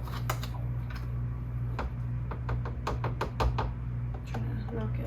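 A measuring spoon of baking powder is tapped against a container rim to level it, giving a series of sharp, close knocks in uneven bursts over steady background hum.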